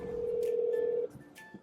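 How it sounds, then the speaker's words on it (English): A telephone ringback tone purrs steadily for about a second while an outgoing call to return missed calls connects, then cuts off, leaving quiet room sound with a faint brief tone. "3 missed phone calls from Katie Johnstone. It's not always a good sign when I get these from her. Let's see what's up"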